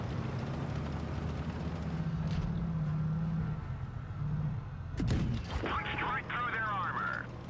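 Tank gun shots from a lightly armored Tier X medium tank, the TVP T50/51, in World of Tanks Blitz: a sharp blast near the five-second mark with crackling aftermath, over a steady engine rumble.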